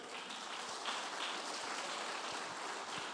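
A church congregation applauds for God during a Portuguese-language sermon, a steady dense patter of many hands clapping together, fairly distant and even, with no voices on top.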